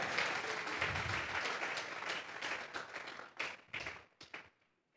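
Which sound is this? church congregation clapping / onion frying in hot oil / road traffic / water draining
church congregation clapping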